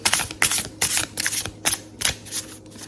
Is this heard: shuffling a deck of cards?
yes